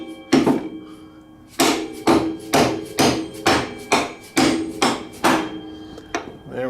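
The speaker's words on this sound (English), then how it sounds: "Oh, I need my mallet. Gonna drive the axle all the way through." A mallet drives the axle through the wheel of a Vulcan 1600 Classic motorcycle. About ten loud, close, hard knocks land in a steady rhythm after a short pause following the first blow.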